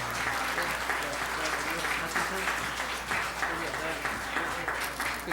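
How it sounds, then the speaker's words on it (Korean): A church congregation at a baptism service claps warmly and steadily for several seconds, with a dense, continuous patter and faint voices under it. "네, 박수."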